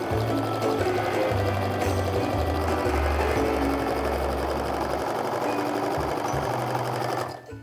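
Sewing machine stitching a seam on a fat-quarter quilt, a steady close rapid whirring hum that runs continuously for several seconds then stops abruptly, with no talk.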